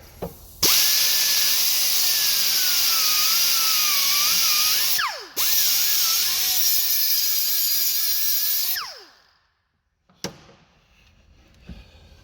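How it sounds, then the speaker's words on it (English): An electric grinder cuts through the metal pins holding a broken shovel handle, with a loud, high whine in two long runs whose pitch wavers and drops as the disc bites, each winding down before a few faint clanks; no talking. "You can use an electric grinder,"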